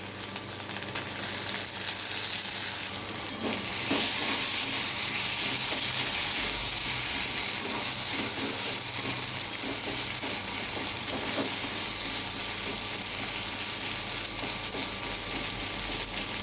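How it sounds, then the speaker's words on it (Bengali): Chopped green chillies and tomatoes sautéing in a pan for masoor lentil dal, giving a steady close sizzle and frying crackle with occasional stirring scrapes throughout, no voices. "এটা একটু কষে নেবো ভালো করে কষে নিয়েছি"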